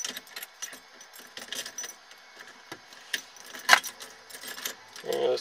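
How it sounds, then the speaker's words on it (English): Keys jangle and rattle in the ignition of a 1991 Ford F150 pickup, then the fuel pump primes with a brief, steady electric whir near the end. "There's the fuel pump."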